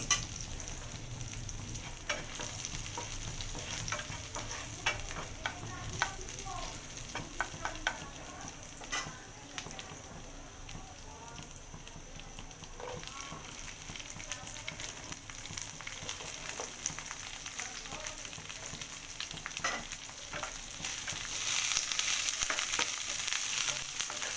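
Chili chicken fries in a pan with a long, steady sizzle and occasional stirring scrapes, moderately quiet, and the hiss grows louder toward the end.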